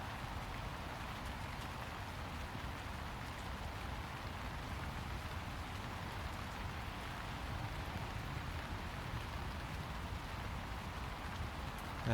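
Steady driving rain falls on a golf course at the Belfry, a continuous faint hiss with no talk and no breaks across the whole stretch.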